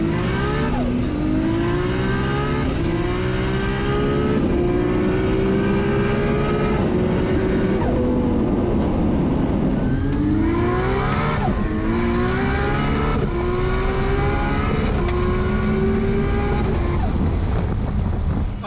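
A Nissan GT-R running a Garrett G35-1050 single turbo revs hard toward 9500 rpm, loud and close, with repeated rising engine pulls, gear changes and brief dips between climbs, plus wind buffeting on the microphone.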